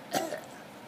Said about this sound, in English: Tika, can you cough?